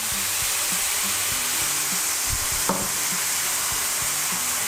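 Fried rice with shrimp, green onion, chopped celery and peas sizzling steadily in a pan, with a constant broad hiss and occasional scraping stir strokes and clanks close by.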